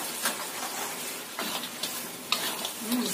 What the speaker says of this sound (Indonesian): kita tambahkan ayam yang sudah kita goreng dengan tepung tadi